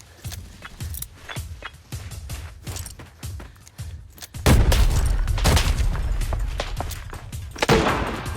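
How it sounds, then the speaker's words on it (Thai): Grenade blasts in the shooter game Arena Breakout: a loud booming burst lands at about four and a half seconds, then rumbling explosive noise sustains with another punch near the end, after a stretch of clicking, rattling gear. "เล่นระเบิดครับ"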